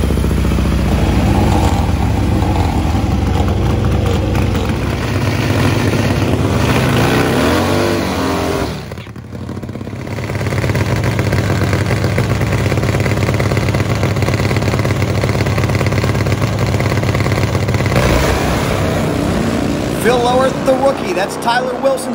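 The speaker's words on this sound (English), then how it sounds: "we got a lot of fast motorcycles coming up, plus Nitro Funny Bike, plus Top Fuel" Nitro-fuelled Harley drag racing motorcycles roar loud and close at a drag strip, a sustained blaring engine howl that drops away briefly mid-clip, then surges again.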